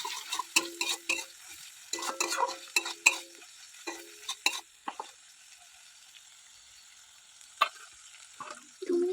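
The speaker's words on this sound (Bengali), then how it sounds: "মরিচ বাটা পেঁয়াজ বাটা সব আলুর উপর দিয়ে দেবো ভালো ভালো কষিয়ে নেবো" Potatoes coated in chili and onion paste sautéed in a pan, with rapid bursts of a spatula scraping and clinking against the metal over a faint sizzle, followed by a quieter stretch and a few isolated scrapes.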